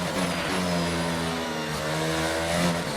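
Race car engine in the F1 22 video game, wet race in Saudi Arabia, climbing through steady rising harmonics as it accelerates, loud and continuous with no one talking over it.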